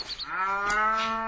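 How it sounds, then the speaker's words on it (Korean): A calf lows once in a drawn-out, rising and falling moo, close and clear, heard alone in the spring morning air along a mountain hiking trail. "송아지 울음소리."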